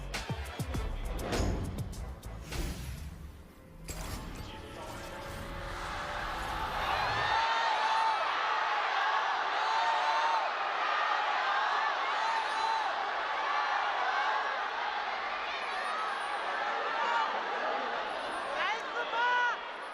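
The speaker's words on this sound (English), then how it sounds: "I don't know if they turned up the crowd in our headsets or they just got louder" Packed arena crowd at an LPL regional finals esports match between Rogue Warriors and Edward Gaming roars with a steady cheering din, following louder broadband noise at the start and running under talk.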